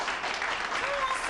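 A studio audience claps steadily for the two finalist couples at a televised dance contest, a dense, even wash of applause at moderate level.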